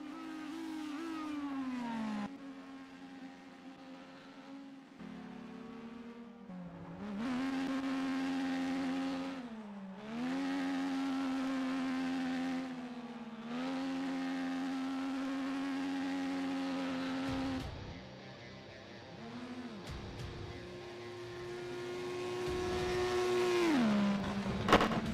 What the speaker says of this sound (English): He's going to do a little burnout there.